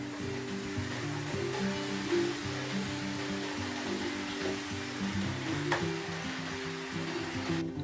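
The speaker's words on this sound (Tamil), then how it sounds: "இப்போ எண்ணெய் ஊற்றுனதுக்கு புளி போடலை, அதனால் கொஞ்சம் பொங்கிட்டு வருது" Murukku dough bubbles and fries in hot oil, a steady, close sizzle with fine crackling that keeps going throughout without voices.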